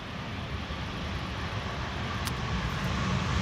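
A Boeing 737-300 airliner on crosswind approach to Amsterdam Schiphol's Polderbaan runway 18R, its engines giving a steady low rumbling roar at moderate distance, unbroken and without talk.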